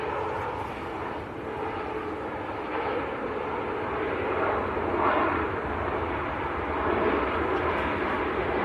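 A Ryanair airliner on short final approach at Manchester Airport gives a steady, moderately distant jet rumble and whine that swells slightly as it passes.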